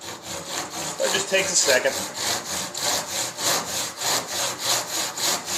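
Disston hand saw cutting through wood while turning knitting needles, with rapid, regular push-pull rasping strokes close up; someone speaks briefly over the first strokes.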